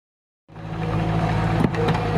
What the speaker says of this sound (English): Skid steer loader.